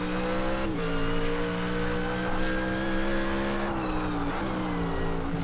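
A GT3 race car engine in a sim racing game drones loud and steady at high revs, with pitch dips at gear shifts and brief rises as it accelerates.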